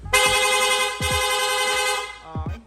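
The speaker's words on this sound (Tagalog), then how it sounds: "Rapid horn naman sir." A Piaa horn on a Honda Click v3 scooter set to a rapid mode sounds one long, loud, brassy blast for about two seconds, followed by a shorter burst, close and harsh.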